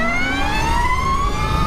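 An Energica Ego RS electric motorcycle's motor whining in reverse gear at low speed: a steady, close, high-pitched electric tone with layered harmonics that glide slightly upward throughout.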